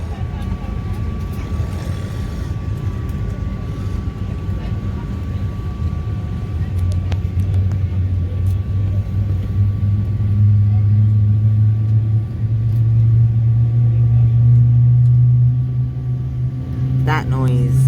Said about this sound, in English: Oh look, a plane just took off.